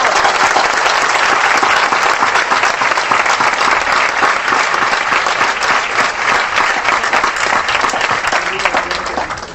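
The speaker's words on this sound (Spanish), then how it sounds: "pero también le damos un aplauso." Loud, sustained applause from a large audience at a university event in Xochimilco, dense clapping filling the whole stretch and tapering slightly at the end.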